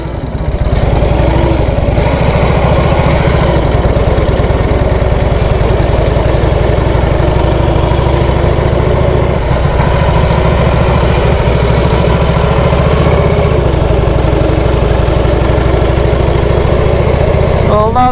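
A 1968 Harley-Davidson police trike engine throbs loudly, running steadily at low revs in third gear, rumbling close by without a break.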